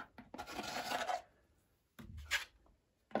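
A trowel spreads filler over plasterboard, a close, raspy scraping heard in two long strokes split by short pauses, with a third stroke starting at the end and no speech.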